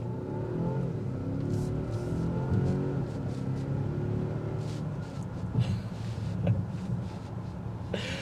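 2025.5 Volvo XC90 T8 accelerating hard, its engine rumbling and rising in pitch as it pulls, with road and wind noise building around it and a few brief knocks.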